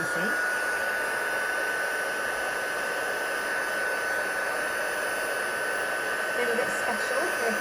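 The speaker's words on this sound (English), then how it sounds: "time to heat it with my heat gun." Heat gun blowing steadily for embossing a Father's Day card, a loud continuous whooshing roar with a fixed motor whine that runs unbroken from start to finish.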